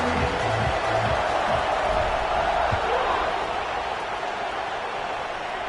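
Continuous loud roar of a college football stadium crowd as a kickoff approaches against Mississippi State, a dense, steady wash of cheering with faint low voices underneath at the start.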